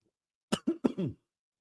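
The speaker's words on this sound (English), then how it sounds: "I keep coughing" A quick series of four sharp coughs, close and fairly loud, bunched within about half a second, then silence.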